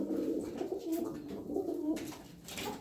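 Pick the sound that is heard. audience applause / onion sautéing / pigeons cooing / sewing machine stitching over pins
pigeons cooing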